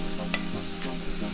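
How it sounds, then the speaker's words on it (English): Food sizzling steadily in a hot pan while being stirred, a close, continuous crackling fry for a Peruvian potato dish, with a faint scrape of utensils. "now it's just sizzling"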